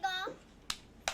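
Two sharp hand claps ring out about a third of a second apart, near and crisp, meant to set a toy doll dancing, just after a short high-pitched voice-like tone fades at the start.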